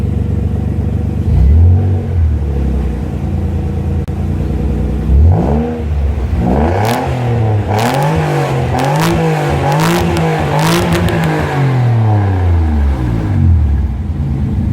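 A Nissan 300ZX Fairlady engine is revved repeatedly at close range, each blip climbing and falling away over a deep steady idle, loud and alone with no talk.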